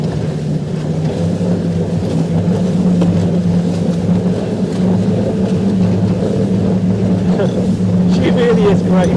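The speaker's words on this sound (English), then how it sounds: "you can hear the engine picking up now, and 23, here we go, look at that, she's doing a little racer" The engine of a GALA Viking 500 motorboat drones steadily at speed, a loud, continuous hum with water and wind noise, while a person talks over it throughout.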